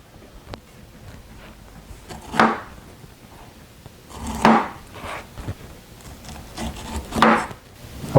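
Knife slicing brown spots off a pineapple on a cutting board, three distinct scraping cuts spaced a couple of seconds apart against quiet background, close and clear.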